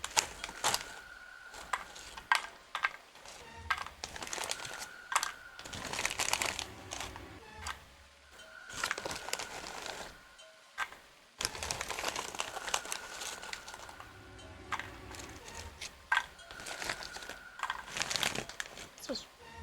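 A plastic bag crinkles and rustles in repeated bursts throughout, close and fairly loud, with occasional game sound effects in the background.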